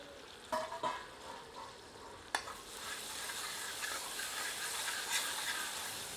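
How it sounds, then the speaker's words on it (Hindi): Mughlai paneer curry masala cooking on low heat in a pan, stirred now and then with a ladle: a steady close sizzle and frying hiss with a few scraping stir strokes near the start, no voices. "अब इसे ढककर 5 से 7 मिनट धीमी आंच पर पकाते हैं, पर बीच बीच में एक दो बार करछी चला देते हैं।"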